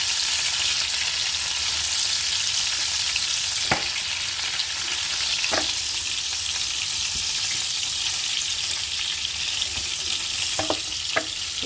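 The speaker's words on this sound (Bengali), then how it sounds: "দেখতে পাচ্ছ মাছগুলো মোটামুটি ভাজা হয়ে গেছে" Bele fish sizzling steadily in hot oil, a dense close frying hiss throughout with a few sharp utensil clicks and scrapes, no voices.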